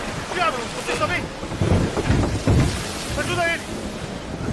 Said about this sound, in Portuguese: Os ventos estão muito fortes, temos que voltar.